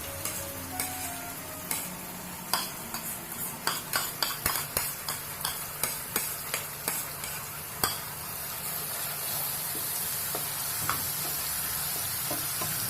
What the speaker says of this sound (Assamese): এয়া ৰচুন আদা পিঁয়াজ জলকীয়া মিলাই পেলাই এয়া ভাজি দিছোঁ।